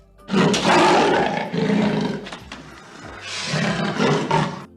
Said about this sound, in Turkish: Leoparlar böyle ses çıkarır.